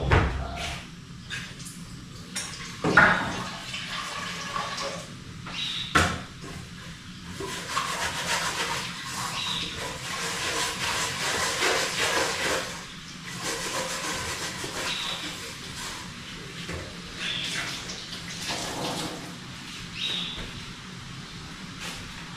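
Water boils in a pot with a broad, steady bubbling hiss that swells through the middle, broken by a few sharp clunks near the start.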